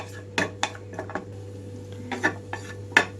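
Cashews frying in oil for rava idli as a spoon stirs them in a metal pan, giving a handful of sharp close clinks and scrapes over a faint sizzle and steady hum.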